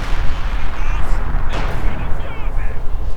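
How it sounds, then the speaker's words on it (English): Heavy mortars fire in the Company of Heroes 2 strategy game, a 2v2 match, giving dull, rumbling booms amid dense battle ambience, with a sharper report near the middle. "Heavy mortars firing away"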